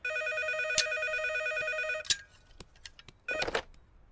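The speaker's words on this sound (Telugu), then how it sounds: "ఈసారి ఫోన్ మోగుతుంది మన రూమ్ లోనే" Indoors, a telephone rings in a room with loud, repeated electronic trills for about two seconds, then stops, followed by a few clicks and handling noises.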